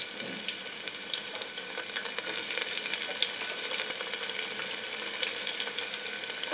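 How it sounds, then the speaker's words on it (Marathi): Chopped onion and whole spices hit hot oil for pulao, raising a loud, close, crackling sizzle that runs unbroken and even throughout, with no voices. "आता मी बारीक चिरून घेतलेला कांदाही घालत आहे फोडणीला।"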